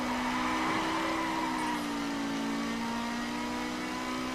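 A BMW M4 in The Crew racing game revving and accelerating, a steady sustained engine tone that holds and shifts slightly in pitch, with faint tire noise and no talking.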